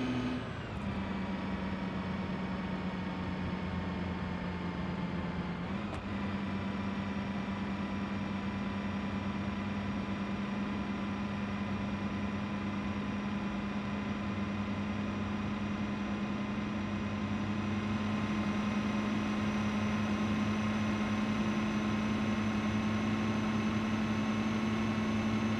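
A big turbocharged cement mixer truck engine drones steadily and loudly for the whole stretch, a constant low hum with a brief hiss near the start.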